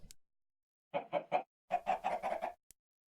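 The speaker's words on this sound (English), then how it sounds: "you'll hear the chickens" Chickens cluck in the video game Stoneblock 2 in two short bursts, a trio of clucks followed by a longer run of quick clucks, close and fairly quiet.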